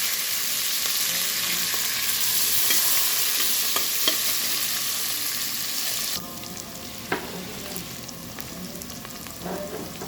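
Sliced onions sauté in oil with cumin seeds, curry leaves and green chillies, making a constant crackling sizzle with a few stirring knocks. The frying quiets a little midway through, close by.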